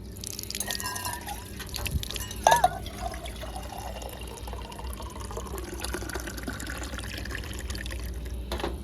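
Cold drinking water runs from a tap into a glass in a poor family's mud house, a soft, continuous trickle and splash with a brief brighter drip near the start, fairly quiet and with no talking.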